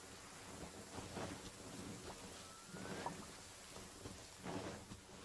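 Steady rain with rolling thunder in the fantasy adventure game Genshin Impact, a continuous hiss of falling drops under low rumbles that swell and fade several times, fairly faint overall.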